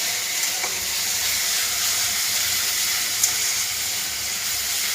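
Puti fish coated with turmeric frying in a pan: a loud, continuous close-up sizzle and hiss that holds steady throughout, with an occasional faint tick and no voices.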